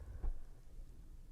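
Low thunder rumbling during a monsoon storm, one brief stronger boom near the start and then a steady low rumble with rain-like noise. The sound is faint and distant throughout.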